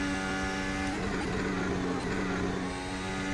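A Formula 1 car engine screams steadily in F1 2025 on a pole-position lap of the Italian Grand Prix at Monza, loud and close, with a brief dip in pitch as the car shifts down to fifth gear.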